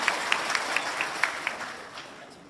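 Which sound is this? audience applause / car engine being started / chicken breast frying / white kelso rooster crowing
audience applause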